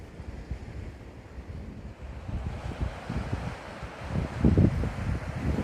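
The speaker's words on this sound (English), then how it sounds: "just can't beat the sound of the waves crashing on the rocks on the shore" Waves crash on rocks along the shore near Newquay, a low rumbling wash building and surging irregularly, with a larger crash near the end, mixed with wind buffeting the microphone.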